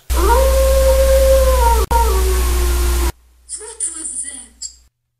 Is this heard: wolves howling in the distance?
yes